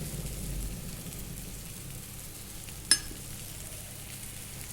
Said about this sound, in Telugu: బాగా కొంచెం పచ్చి వాసన పోయేదాకా బాగా వేయించుకుందాం ఇప్పుడు ఇందులో కాస్తంత కారం వేసుకుందాం